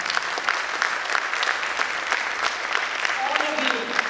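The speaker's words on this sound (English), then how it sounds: "Let's give them a big round of applause." At a 2022 graduation ceremony, an audience breaks into loud, sustained applause, with many hands clapping densely and evenly throughout.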